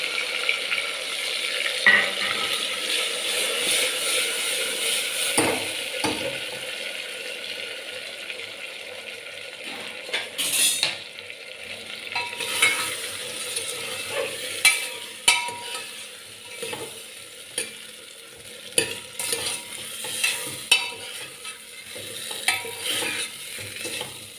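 Tomatoes and leftover masala are stirred in a pan for a Kathiyawadi bottle gourd curry, a spoon scraping and clinking steadily against the metal over a constant sizzle, close and fairly loud, with no talking.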